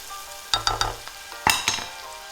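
Onions and garlic sizzle in a very hot pan while being stirred, a few sharp scrapes and clatters of the spoon against the pan standing out over the steady frying hiss, close and alone.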